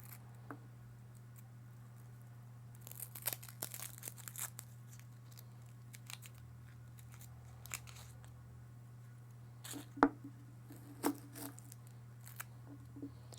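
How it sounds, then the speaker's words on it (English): Dry papery skin peeled off shallots by hand in a kitchen while preparing Pad Thai, giving scattered crisp crackles and small tearing crunches close up over a steady low hum. "And the next one is shallots. So what you have to do is just peel off the skin."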